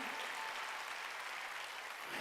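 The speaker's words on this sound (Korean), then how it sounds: "박수로 하나님께 영광을 돌려요." A church congregation applauds to praise God during a sermon, a steady, faint, dense wash of many hands clapping at a distance, unbroken for a couple of seconds.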